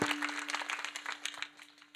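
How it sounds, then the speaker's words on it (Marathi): Audience applause at a devotional program on the lives of saints, honoring students and their teachers: a dense patter of many hands clapping for about two seconds, fairly close, over a steady low electrical hum. "या सगळ्यांसाठी एकदा टाळी."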